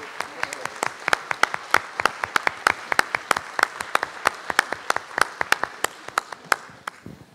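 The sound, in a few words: audience applause at memento presentation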